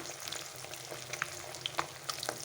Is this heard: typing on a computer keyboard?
no